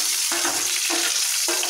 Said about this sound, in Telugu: వేగిన తర్వాత మనం కట్ చేసి పెట్టుకున్న ఉల్లిపాయ ముక్కలు వేసుకోవాలి